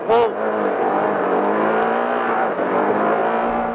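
Off-road race cars run across the Nevada desert in a Vegas to Reno race, engines holding a loud, sustained drone with shifting pitch after a brief sharp burst at the start; a voice talks over part of it.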